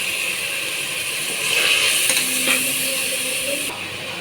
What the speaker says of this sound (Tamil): இது எல்லாம் நல்லா வதங்கிச்சு தக்காளி போட்டுக்கலாம் தக்காளி வதங்கட்டும்